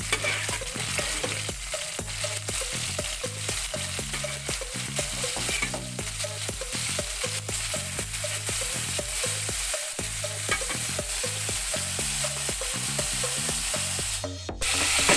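Beef caldereta being stirred in a pan, a constant sizzle under a rhythmic run of spoon scrapes and knocks against the metal that repeats through the whole stretch, close and fairly loud.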